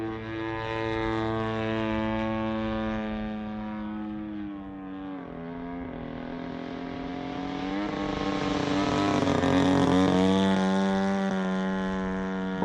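Gas engine of a giant-scale balsa Seagull Models Zero RC warbird with an EME60 engine, droning steadily in flight at half throttle, its pitch sagging then climbing again as it passes, loud and continuous with no talk.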